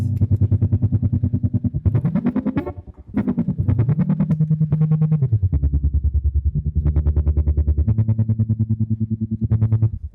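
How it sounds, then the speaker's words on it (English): Electric guitar with a pulsing tremolo effect, the volume throbbing in a steady rapid rhythm across sustained chords and a few sliding notes, loud and close. "that is the tremolo that I've been using a lot lately, and it sounds like this."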